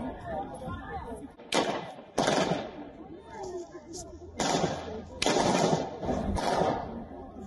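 Bursts of rapid gunfire crack out repeatedly with short gaps between volleys, sharp and echoing over a murmur of background voices, during an attack in a Moscow concert hall.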